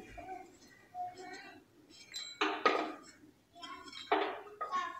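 A spoon clinks and scrapes against a pan while roasted dry fruits are scooped out, giving a few sharp metallic knocks at close range.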